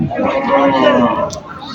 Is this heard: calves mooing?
yes